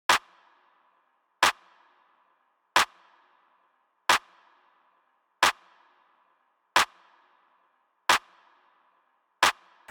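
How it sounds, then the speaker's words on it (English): Dull, dry drum claps sound alone in a simple steady pattern, eight sharp hits spaced evenly about every 1.3 seconds with brief decays between. "I came up with this very simple clap pattern"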